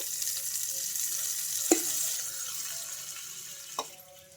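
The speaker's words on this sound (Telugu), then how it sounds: "ఈ పోపు కూడా వేసేసుకుంటున్నాను" A quiet sizzle hisses steadily, with two soft knocks as hot tempering is poured into coconut chutney and stirred.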